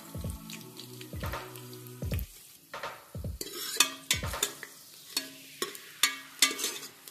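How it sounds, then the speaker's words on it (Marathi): Garlic fries in oil with mustard seeds and cumin for dal palak, a gentle sizzle under repeated, rhythmic spoon strokes scraping and clinking against the pan, close and fairly loud. "लसूण चांगला लाल करून घेणार आहोत"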